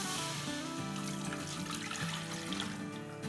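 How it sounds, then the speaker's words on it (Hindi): Five cups of water poured into a preheated pot while making mutton shami kabab, a continuous splashing, gurgling stream heard up close with no other sound over it. "देखिए मेरा पॉट प्री हीटेड है, इसमें हम 5 कप पानी डाल देते हैं"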